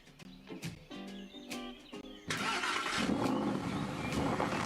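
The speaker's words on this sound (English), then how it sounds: "My latest favorite is this cool white sports car." A compact white sports car's engine fires up partway through, after a stretch of quieter, scattered background sounds, then settles into a steady, fairly loud running rumble.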